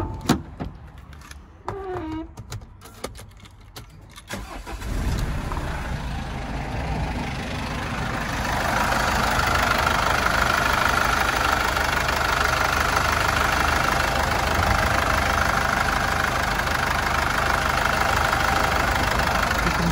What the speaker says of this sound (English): engine sounds very good to me